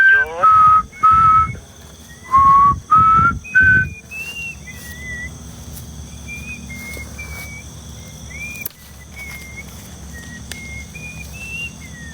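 A person whistles a few short, loud rising notes up close, then softer, thinner whistled notes continue at a distance over a steady low hum.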